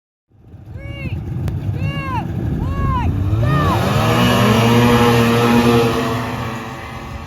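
Polaris Indy 550 snowmobiles launch in a drag race, engines revving with rising, sweeping pitch as they accelerate away, loud and close at first then holding a high steady drone, with voices heard faintly in the mix.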